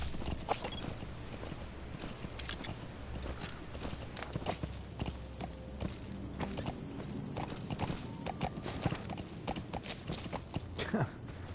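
Horse hooves clip-clop steadily in Metal Gear Solid V: The Phantom Pain, a continuous rhythmic trot close by under a busy game soundscape, with a brief whinny-like sound possible and no clear talk.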